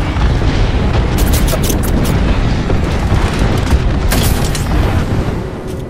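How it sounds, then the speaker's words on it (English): Airstrike explosions in the Apex Legends video game: a loud, sustained rumble of booming blasts with several sharp bursts layered on top, dense and continuous throughout before easing slightly at the end. "Airstrike."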